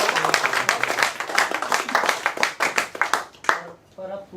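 An audience claps at a shayari poetry recital, a dense run of hand claps filling the stretch before easing off near the end, with voices speaking over the applause.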